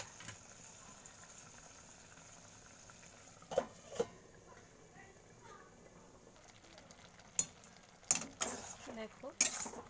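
Malabar spinach stalks simmer in a covered pot, giving a faint, steady bubbling hiss broken by a few sharp clinks of lid and utensils near the end.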